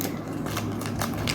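Scissors snip through the plastic packaging of an Innoo Tech condenser microphone during an unboxing, giving a quick run of close, crisp cuts and crinkles over roughly a second and a half.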